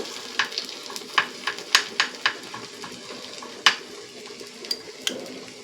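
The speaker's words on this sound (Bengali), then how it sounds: "চামচের সাহায্যে একটু নেড়ে দিলাম" A spoon stirs egg yolk into bread in a pan over a faint sizzle, producing a string of sharp, close metallic taps and scrapes at an irregular rhythm.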